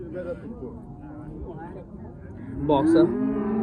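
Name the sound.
cattle mooing at livestock market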